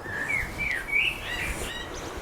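Short, high bird trills and chirps over a noisy outdoor background, fairly close and repeating in quick bursts.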